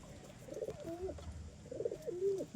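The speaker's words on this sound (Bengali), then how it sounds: "দেখুন এই পায়রাটা একটু এদিকে, খুবই সুন্দর পায়রা।" A pigeon coos twice, soft throaty rolling calls close by against a quiet background.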